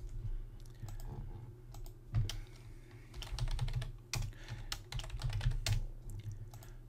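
Keys tapped on a computer keyboard while entering a password, quick irregular clicks in short bursts close up over a faint low hum, with no talking.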